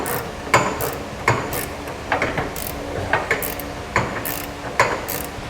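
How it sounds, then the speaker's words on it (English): A ratchet wrench tightening a flange nut onto a carriage bolt while fitting a spare tire underbed kit on a 2017 GMC Sierra 2500 pickup, loud close ratcheting strokes in a steady repeated rhythm, about seven pulls. "And then we'll tighten down the nut."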